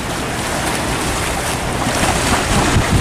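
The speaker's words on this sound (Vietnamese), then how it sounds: "ghe đang nhảy sóng về cửa cảng nè anh em" Fishing boat riding ocean waves toward a harbor mouth in Binh Thuan, Vietnam, a loud continuous roar of surf and rushing water mixed with heavy wind buffeting the microphone, no talk.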